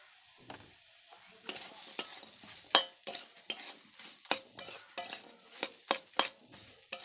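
A semolina kofta mixture with water and cumin powder is stirred and fried in a pan, soft sizzling under a series of irregular scraping and tapping strokes of a spatula against the metal, close and fairly quiet.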